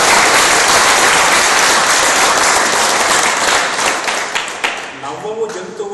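A live audience at a comedy talk claps loudly in sustained applause that thins into scattered claps toward the end, with no speech over it.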